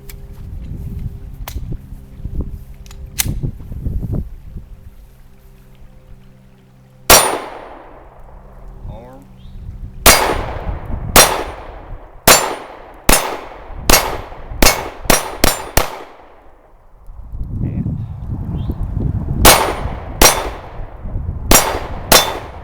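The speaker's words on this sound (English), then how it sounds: "Let's go ahead and try the Federal aluminum. 15 rounds." A Glock 19 Gen 3 pistol fires Federal aluminum-cased rounds outdoors as a string of sharp, loud, close shots in uneven bursts, with brief pauses and some handling noise between shots.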